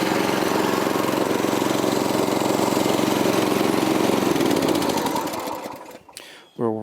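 A garden tiller's small engine runs steadily and loudly close by, its buzzing drone holding even for several seconds before winding down near the end, where a brief voice cuts in.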